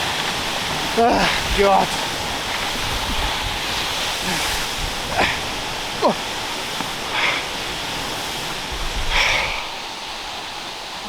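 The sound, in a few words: waterfall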